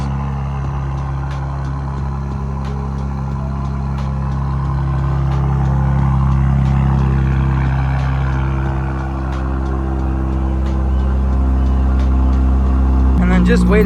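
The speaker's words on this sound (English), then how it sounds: "when the idle drops down, you just hear the turbos so much more" A turbocharged Acura TLX Type S idling after a cold start, a steady, loud low engine drone with a faint turbo whine riding on top. A brief rise comes near the end.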